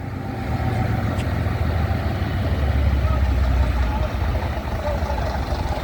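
A Routemaster (RM) London double-decker bus idling at a bus rally, its diesel engine giving a deep, continuous throbbing rumble close by, with people talking faintly over the steady drone.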